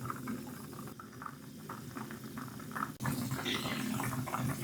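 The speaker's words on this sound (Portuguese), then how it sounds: "A água começou a ferver" Water bubbles at a steady rolling boil in a pot with pork belly, a continuous dense gurgling close by, with no talk over it.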